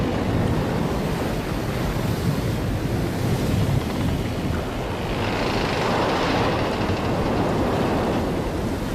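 Stormy wind and crashing sea waves in a film scene, a loud, continuous roar of surf and gusting wind that swells and shifts without pause, with no voices.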